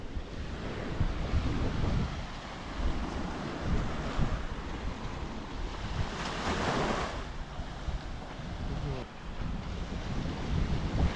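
Steady roar of winter sea waves breaking at Kai Bae Beach, Koh Chang, with gusty wind buffeting the microphone throughout; a surge swells loudest midway.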